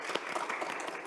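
Brief, faint applause from a forum audience, a soft, even patter of clapping that lasts only a moment.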